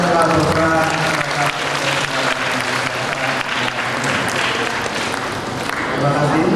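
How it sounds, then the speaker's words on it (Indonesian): Dense, loud audience applause at a national seminar in Indonesia, a continuous roar of many hands clapping that holds steady throughout with crowd murmur mixed in. "Tepuk tangan untuk semua yang telah berperan."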